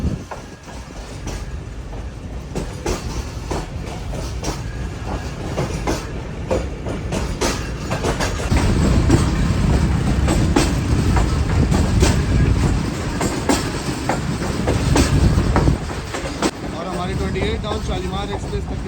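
Shalimar Express, an old parlour car on the Multan to Karachi line, rolls along the tracks with continuous rumbling and rhythmic wheel clatter, loud and close, with surges of louder rattling midway.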